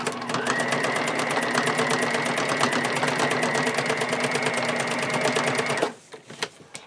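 A sewing machine stitches over elastic on a fabric pencil bag in a fast, even, continuous run for about six seconds, then stops with a few small clicks.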